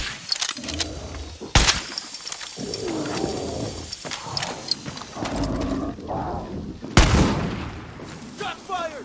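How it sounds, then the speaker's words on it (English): Gunfire in the video game Far Cry 6, heard as a few sharp blasts, one early and one loud later, over a dense bed of game noise and animal roars. "Shot fired!"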